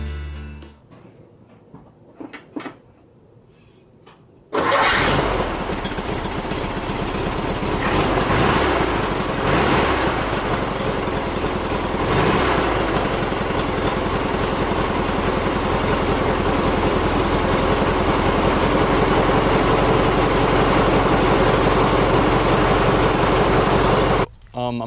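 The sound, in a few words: car engine starting and idling with clacking noise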